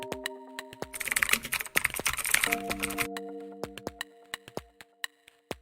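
Rapid computer keyboard typing, close and crisp, with a dense flurry of keystrokes in the middle, then scattered single taps over a steady electronic hum.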